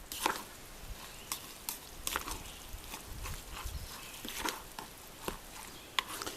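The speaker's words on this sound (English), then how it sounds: "Now I've got my TVP here. I'm going to dump all of that in. Stir that into the rice." A spoon stirs textured vegetable protein into rice in a pot, giving a series of close, irregular scrapes and soft clunks against the pot with small pauses between strokes.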